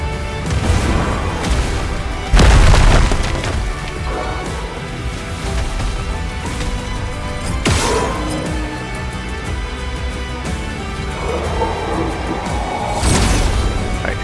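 A sword attack in Clair Obscur: Expedition 33 unleashes a series of explosive crashes, with heavy booming impacts near 2.5, 8 and 13 seconds over a dense, continuous wash of battle sound and music.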